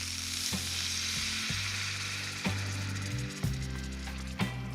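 Golden chicken juices sizzling in a hot pan, a continuous close frying hiss with a few soft knocks and bubbling shifts along the way.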